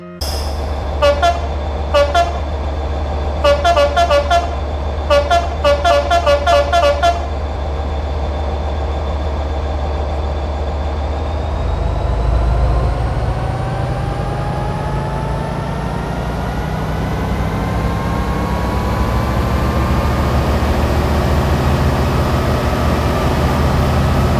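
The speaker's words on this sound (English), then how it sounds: "the engine sounds are exactly the same as the original" A video game train horn toots in several short bursts over a steady engine drone, followed by the engine rumbling and rising in pitch on its own.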